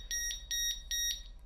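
A SonoAlti audible altimeter alarm tone played as a preview, a loud, shrill electronic beeping in three quick double-pulse groups, close and clear over faint low hum.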